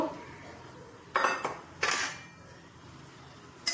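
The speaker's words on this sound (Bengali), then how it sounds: "হলুদ গুঁড়ো দিয়ে একটু নাড়াচাড়া করবো।" Metal spoon scraping and clinking against a pan while taro is stirred with turmeric powder, a few short bright scrapes and knocks at close range, with no talking.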